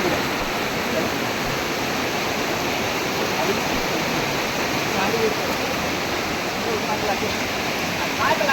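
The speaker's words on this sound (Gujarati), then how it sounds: "આ પહેલાંનો ધોધ છે જે નાનો ધોધ કહેવાય છે" Steady, loud rush of a small waterfall at Kunduvalo, the source of the Valva river near Khaltagarbadi, forming a dense, unbroken roar of falling water close by throughout.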